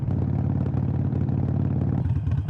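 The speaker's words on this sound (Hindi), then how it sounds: "अभी आप लोग देखो 1000 आरपीएम के आसपास बाइक चल रही है और बाइक बहुत ज़्यादा स्टेबल है आइडल कंडीशन में" A Harley-Davidson Iron 883 motorcycle idles around 1000 rpm, a close, loud, steady low rumble with rhythmic lumpy firing pulses and light mechanical clatter, no voices.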